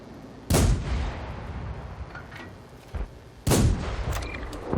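Tank cannon fire in the video game World of Tanks: two loud, booming shots about three seconds apart, each with a long rumbling tail, over low in-game background noise.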